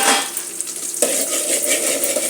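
Onions, curry leaves and green chillies fry in a pan with a loud, close, steady sizzle and hiss, and a single sharp stir or clink of a utensil partway through.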